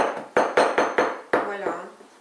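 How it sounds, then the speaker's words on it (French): A knife chops black mushrooms on a board to prepare nems, giving six sharp, evenly spaced knocks that sound close and crisp, with no talk over them. "Donc, pareil, hacher finement, comme ceci."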